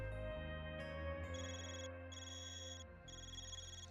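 A Zypha phone from the game Trails Beyond the Horizon rings with a steady electronic ringtone, a repeating bright chiming pattern with pulsing high tones over sustained synth music, continuous and clear throughout.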